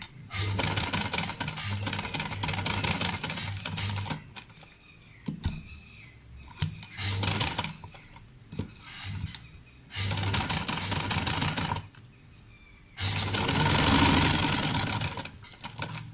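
A sewing machine stitches fabric for a neckline in several close, loud runs of rapid, even needle clatter, separated by short pauses where the machine stops and the fabric is turned.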